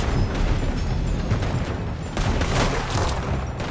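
Dense fusillade of gunfire in Red Dead Redemption 2 as enemies shoot from a building and all around, loud overlapping shots and booms with no break.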